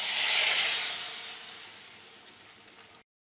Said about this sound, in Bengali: এখন আমি বাগারটা দিয়ে দিব।